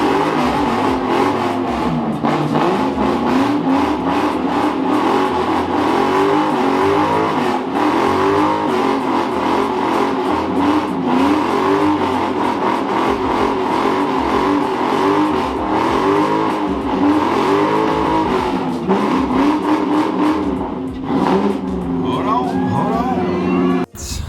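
A 1999-2004 New Edge Mustang GT engine revs hard and nonstop during a burnout, its pitch rising and falling, loud and close for the whole stretch.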